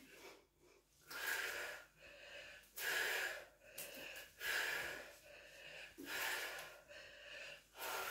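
Heavy, rhythmic breathing during a HIIT fat-burn workout, with loud gasping inhales and wheezy exhales repeating roughly every second, close to the microphone with no talking.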